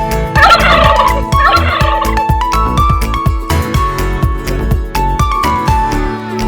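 A turkey at Almere Jungle zoo gobbles loudly and close by in rapid rattling bursts, with other fowl calls and pulsing clucks filling the background.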